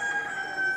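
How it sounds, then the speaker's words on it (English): A rooster crows near a cave in Malaysia, a loud sustained call heard clearly and alone with a steady tone throughout. "I feel like it's early in the morning because all the roosters are crowing."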